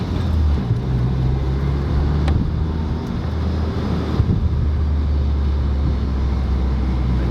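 A VW MK8 GTI fitted with an X Force exhaust cruises in eco mode with its windows down, a steady low exhaust drone mixed with road noise and wind buffeting throughout.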